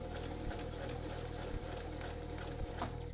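Sewing machine running steadily while stitching a men's dress shirt, pivoting around a corner, with a continuous mechanical hum and a few brief pauses in the motor.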